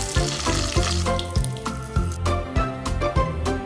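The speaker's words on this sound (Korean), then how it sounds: "기름을 두른 후라이팬에 중불로 바삭하게 익혀주세요." Thin ground beef patties pressed between rice paper sheets fry crisp in an oiled pan over medium heat, giving a loud, close crackling sizzle with recurring bursts of spatter.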